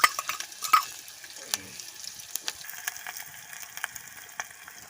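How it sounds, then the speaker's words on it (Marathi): Hot oil tempering with curry leaves, onion and tomato sizzles in an outdoor pan for a village crab curry, with scattered stirring clinks and spatters rising over a soft continuous fry. "आता हे लोक फोडणी घेणार आहेत खेकड्यांचा रस्सा बनवायला"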